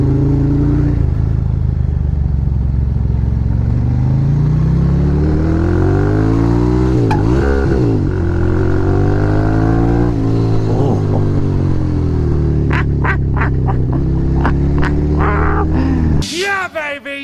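A motorcycle rides and accelerates close up, its engine note rising and falling through gear changes and cornering on an open road, with brief sharp rattles near the end and continuous wind and engine noise throughout.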